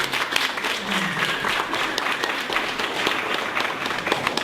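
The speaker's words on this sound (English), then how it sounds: "Let's give Chris another round of applause" Sustained audience applause for a guest speaker at a professional meetup talk, a dense even patter of many hands clapping steadily throughout, fairly loud with no voices over it.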